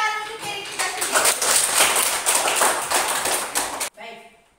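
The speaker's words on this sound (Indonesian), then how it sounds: "tepuk tangan untuk diri kita sendiri" Children clapping for themselves in a classroom lesson, a lively scattered round of hand claps lasting a few seconds before cutting off abruptly, followed by a brief voice.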